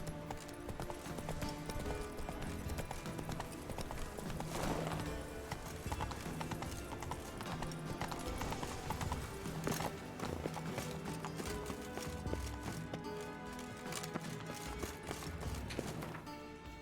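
Horse hooves galloping in The Witcher 3, a steady rapid clip-clop running throughout under game music and ambience, loud and continuous with occasional whinnies.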